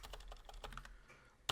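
Code being typed on a computer keyboard for a Rust GUI calculator, a quick run of close, crisp key clicks in an irregular rhythm with no talking, ending in a sharper louder tap.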